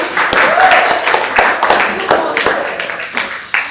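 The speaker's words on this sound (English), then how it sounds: "Give a real round of applause for Saban." A room full of people at a Toastmasters meeting applauds, steady clapping throughout with a few sharper claps standing out near the end.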